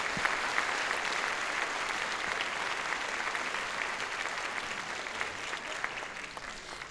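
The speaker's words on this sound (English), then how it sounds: "Give them a round of applause for all their effort too" An audience at the 2018 Garland ISD Evening Study Center graduation ceremony applauds the staff, a steady, even wash of many hands clapping that holds for several seconds at moderate distance.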